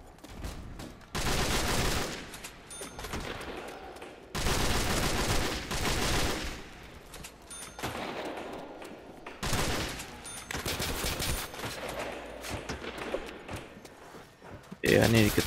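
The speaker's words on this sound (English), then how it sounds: "Actually shoot this gun fast." Bursts of rapid gunfire from Call of Duty World at War, zombie mode with modern weapons mod, fire loud and close in long repeated volleys separated by brief pauses. A person talks now and then.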